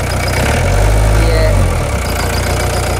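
A tractor engine is revved close by, a loud deep rumble that swells for about a second and then settles back to a steady idle.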